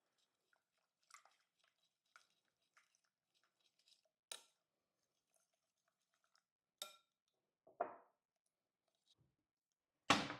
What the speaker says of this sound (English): I'm just going to mix this a little bit